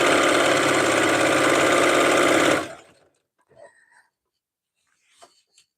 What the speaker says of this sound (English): and we're sewing, and we're sewing, and we're sewing.